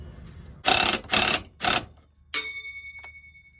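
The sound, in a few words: wrench turning bolts on truck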